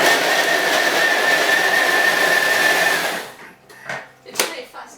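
A Thermomix blending 600 grams of tomatoes at speed 6 gives a loud, steady high-pitched whir that runs for about three seconds and then stops abruptly. After it cuts out come a few quieter clicks and knocks.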